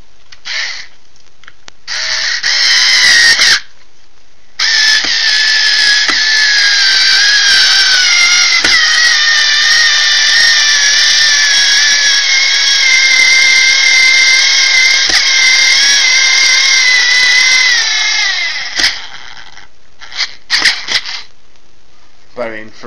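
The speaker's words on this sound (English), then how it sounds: "for an electric screwdriver, that's pretty impressive" An electric screwdriver driving screws into a cage while shelves are fitted, a loud close whirring motor whine running almost continuously for about fifteen seconds after a short first burst, then a few brief clicks and bumps.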